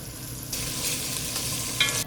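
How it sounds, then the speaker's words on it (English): Diced bacon frying in olive oil in a pot over medium-low heat, a steady close sizzle that jumps louder as it is stirred, with a brief sharp scrape near the end and no talking. "Then add in your diced bacon and cook until crispy"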